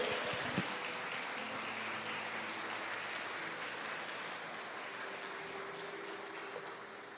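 Steady applause from a church congregation, a continuous wash of clapping holding at an even level throughout, with no voices standing out.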